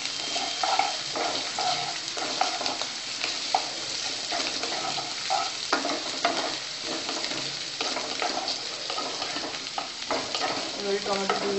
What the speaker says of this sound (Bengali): পেঁয়াজটা হালকা ফ্রাই হয়ে গেছে, এবার কাঁচা লঙ্কা কুচি দিয়ে দিলাম, আদা রসুনের কিমা দিয়ে দিচ্ছি